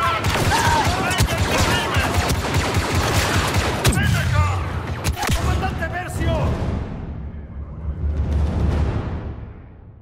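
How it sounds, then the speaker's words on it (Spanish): Rapid blaster gunfire rattles in the Star Wars Battlefront II video game, dense overlapping shots and bursts with sharp cracks, mixed with battle noise and voices, before thinning and swelling again. "están disparando a Ash"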